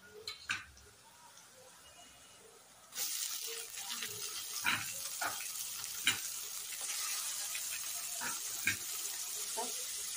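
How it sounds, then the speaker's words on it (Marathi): Ginger, garlic, onion and chili frying in oil for veg pulao, a quiet stir at first, then a steady close sizzle from about three seconds on, punctuated by occasional spoon clicks. "अद्रक लसूण आहे तो मस्त तळून घ्यायचा त्याच्यासोबत, कांद्यासोबत"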